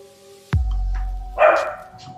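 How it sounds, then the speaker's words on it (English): A male dog named as a boy gives a single sharp bark indoors during a calm fluid-art painting session, followed a moment later by a higher yelp or whine, both close and fairly loud. "What are you barking about, boy?"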